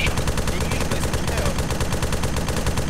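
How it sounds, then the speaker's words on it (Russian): Rapid gunfire in the military shooter Arma 3, a loud, continuous string of close automatic bursts with a sharp, regular rhythm throughout. "Выстрелы."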